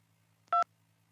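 A single short two-tone keypad beep, clear and close, over a faint low hum, with silence before and after.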